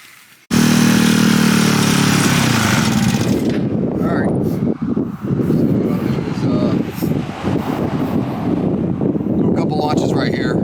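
A buggy engine fitted with a J.Costa variator starts up and runs loud and close, a continuous buzzing drone with rising and dipping revs, buffeted by wind noise.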